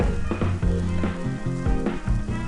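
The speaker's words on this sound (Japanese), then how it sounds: "まずはベーコンエッグを焼きます。" Bacon and eggs frying in a pan for a home breakfast, a steady close sizzle with crackling and a few clattering pan or utensil knocks, no voices.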